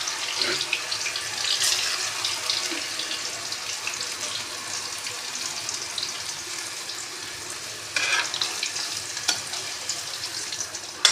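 Balls of dough made from washed wheat flour fry slowly in hot oil in a pan over low gas, giving a steady soft crackling hiss with brief brighter bursts of sputter, close by and with no talking.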